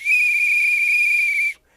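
A single loud, shrill whistle blast, the kind blown to draw attention at protests, held steady for about a second and a half before it stops abruptly.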